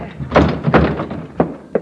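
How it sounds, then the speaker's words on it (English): A door crashed open in an old-time radio crime drama: a string of heavy wooden thuds and bangs, close and loud, with a final sharp knock and no talking. "Crash the door, Logan."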